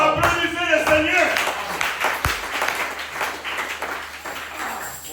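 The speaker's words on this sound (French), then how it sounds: "Applaudissez le Seigneur." Church congregation at a Thursday worship service clapping for the Lord, steady applause with a preacher's voice over the start, slowly fading toward the end.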